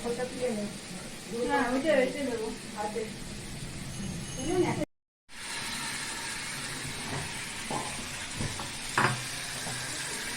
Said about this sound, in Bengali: এরপর মশলাপাতি দিয়ে নেড়ে নেওয়া হচ্ছে